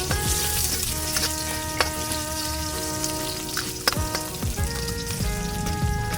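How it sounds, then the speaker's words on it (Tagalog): Garlic, onion and ginger sauté in hot oil in a pan for a spicy squid in coconut milk dish, a steady loud sizzle with scattered crackles and spatula clinks, alone without voices. "Sa parehong kawali maglagay ng mantika at magisa ng bawang at sibuyas."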